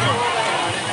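Dense crowd babble in Ved Van park, Noida, at a laser light show: a steady, close wash of many overlapping voices with no single talker standing out.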